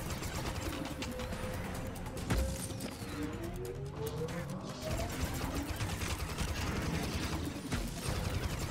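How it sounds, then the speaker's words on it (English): Gatling gun and homing missiles firing in the Starlink: Battle for Atlas video game, a dense continuous barrage of rapid shots and whooshing launches with sweeping tones, loud and unbroken throughout. "I'm just gonna switch back and forth between the Gatling and my homing missiles"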